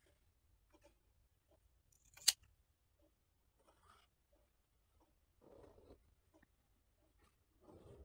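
Scissors cutting fabric for a bag lining, a few faint, scattered snips and rustles in a quiet room, with one sharper click and soft brushing bursts near the end.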